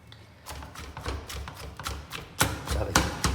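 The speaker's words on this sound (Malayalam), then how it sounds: "നല്ല രീതിയിൽ ചതയ്ക്കണം" Spices being pounded and crushed for a mutton curry, a series of sharp dull thuds and taps close by, irregular at first and then heavier strikes toward the end.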